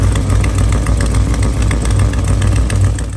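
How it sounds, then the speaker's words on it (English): An LS3-swapped Toyota FRS drift car engine idles loudly and close with an exhaust leak, a rough, steady putter and a raspy, ticking exhaust note throughout. "does it sound like that now? Like we got an exhaust leak."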